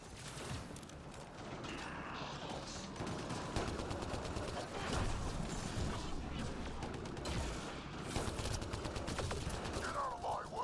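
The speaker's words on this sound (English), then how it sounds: "Shooting as fast as I can!" Sustained rapid gunfire from a sci-fi shooter game, Mass Effect Andromeda, rattles densely throughout with bursts of automatic fire layered over game noise and mechanical clatter, no clear speech.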